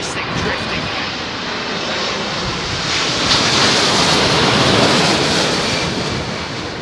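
An airliner from Australia touches down at London Heathrow in strong crosswinds, its engines giving a loud, steady roar mixed with wind rush that swells midway, while someone talks over it.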